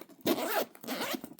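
A clothing zipper is pulled shut in two quick, close raspy strokes with a brief pause between them and no talking.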